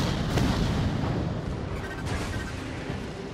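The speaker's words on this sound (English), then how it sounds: "Got a good rail shot on him." A mech's railgun fires in the video game Vox Machinae, a loud, dense booming roar that fills the whole moment and fades only slightly, with no talking.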